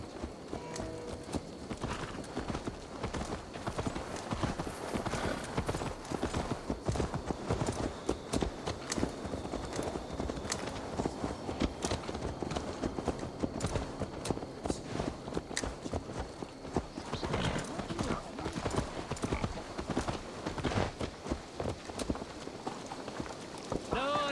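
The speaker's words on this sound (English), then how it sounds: "Let's return the horse." Horse hooves clip-clop steadily in the video game Assassin's Creed Valhalla, a continuous rhythmic walking beat over ambient game sound with voices talking throughout.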